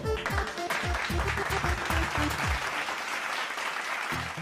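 A crowd claps loudly and continuously at a comic political speech, with sliding voice-like tones and shouts mixed into the first half before the clapping carries on alone.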